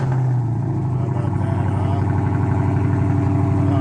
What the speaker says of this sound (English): Let's listen to the exhaust note here as it starts up.